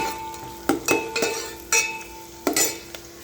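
Whole spices (bay leaf, cinnamon stick and a couple of cloves) stirred in a pot while making chicken soup, giving a few sharp scraping clinks of a spoon against the pan over a soft frying sizzle, with no talk.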